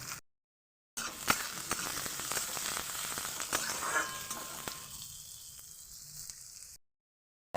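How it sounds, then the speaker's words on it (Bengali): Chopped onions frying in hot oil in a pan, a steady loud sizzle with faint spatter and clicks that thins and quiets toward the end, then cuts off. No voices. "সেই পেঁয়াজ দুটোকে ভেজে নেব"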